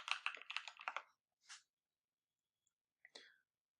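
Typing on a computer keyboard, a quick close burst of light key clicks, then a few isolated keystrokes after short pauses in a quiet room.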